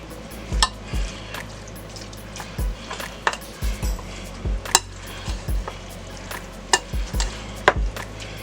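A spoon stirring chicken pasta salad in a bowl, with irregular soft thuds and clinks from the spoon hitting the bowl and wet, squelching mixing sounds between them, close by and with no talk.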